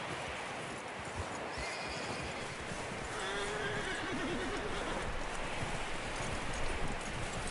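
A skittish horse in a PS4 video game whinnies and snorts over steady clip-clopping hooves and rustling, the neighs fairly close and loud, with no talk.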